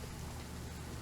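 Rain falls steadily in Genshin Impact, a dense even hiss of a downpour throughout the brief moment, with no talking.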